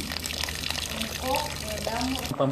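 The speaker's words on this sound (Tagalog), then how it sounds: "Dagan ng konting tubig." Water is poured from a tap into a cooking pot of bamboo shoots and saluyot leaves, a short splashing gush beneath a person talking nearby.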